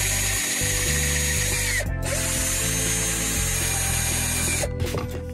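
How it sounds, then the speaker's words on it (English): Power drill boring holes in scrap wood for a homemade guitar's neck screws, a loud steady whine with the motor pitch shifting in steps and two brief pauses as the bit bites in. "I just have to try to drill straight"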